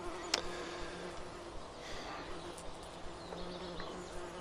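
Honeybees hum softly around an open hive during an inspection, a faint continuous buzz with a few brief louder passes of bees flying close by.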